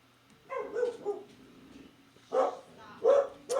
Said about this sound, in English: So many good dog barks this morning.